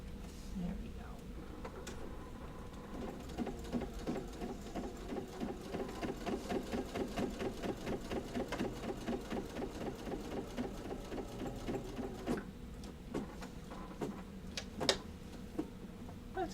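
A sewing machine stitches a pot holder in a steady, rapid run of needle strokes lasting most of the stretch, close and clear, slowing near the end, with faint room noise and occasional clicks.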